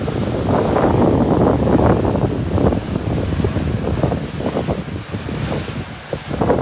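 Ocean surf from a tsunami surge at Pleasure Point, Santa Cruz, after the Tonga volcano eruption: a continuous loud roar of breaking waves heavily mixed with wind buffeting the microphone, steady throughout with no voices.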